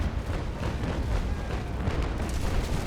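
Ship cannons fire in a naval sea battle in Naval Action Legends, a continuous rolling barrage of muffled booms and rumble, fairly distant and steady with no clear gaps.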